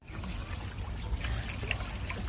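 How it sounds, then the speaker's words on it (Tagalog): Water trickles steadily from a drinking fountain in Manila's Cismigiu park as someone drinks, a continuous close splashing dribble over outdoor background noise. "Yan, uminom siya ng tubig."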